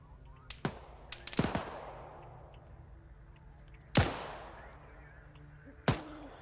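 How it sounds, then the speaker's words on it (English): Soldiers in Arma 3 Cold War Ops fire scattered rifle shots, a few loud sharp cracks with echoing tails amid faint distant pops and quiet game ambience. "What the heck are you guys shooting at?"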